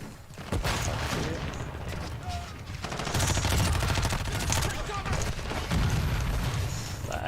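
Gunfire in Warzone 2: sustained rapid automatic fire and booming shots, loud and dense throughout, with a voice talking over the action.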